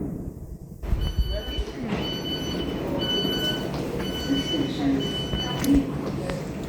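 A train at a London railway station, its steady rumbling hum carrying through the clip with faint high whines and a few brief squeals, while people talk nearby.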